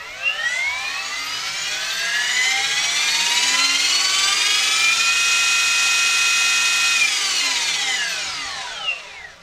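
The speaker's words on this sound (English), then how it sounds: "Let's show you the spool up." An RC helicopter motor driven by a Hobbywing ESC spools up with a rising whine that climbs smoothly to a steady high head speed, holds, then winds down, loud and close.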